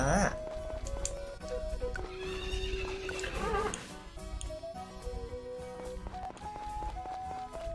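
A horse whinnies in the farming video game Story of Seasons: Friends of Mineral Town, short neighs set over bright in-game background music and chiming tones. The neighs are brief and moderately loud.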